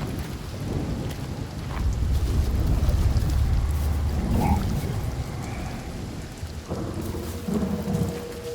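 Heavy rain falling steadily with deep rolling thunder in the video game Hellblade 2, a loud, continuous wash of rain with low rumbles building and fading.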